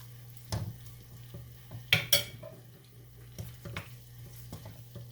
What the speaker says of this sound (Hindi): और अब इसी में मैं एग फ्राई करती हूँ।